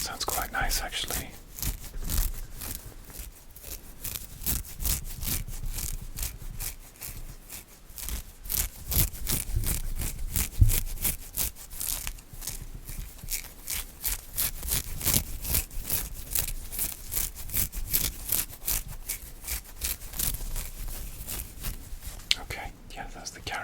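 See-through plastic fitness carry case being scratched and crinkled up close, giving dense rapid rustling, crackling and scraping textures that run continuously with short pauses near the end.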